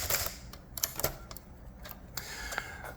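Keys clacking on a 1965 Adler J4 manual typewriter after ribbon repair, typing in red with the shift, a steady run of sharp close strikes with uneven spacing and brief pauses.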